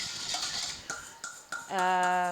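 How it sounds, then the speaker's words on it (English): A utensil scrapes and clinks against a bowl while French toast batter of milk and sugar is mixed, giving a few distinct taps followed by a sustained ringing scrape, close and fairly loud, with no talking. "just mix it in really well and really nicely like this"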